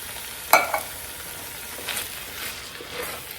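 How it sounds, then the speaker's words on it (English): Soup with canned fire roasted tomatoes and their juice being stirred in a pot, giving a soft, faint scrape and clink near the start, then a quiet bubbling hiss with light stirring swishes. "Give it a good stir."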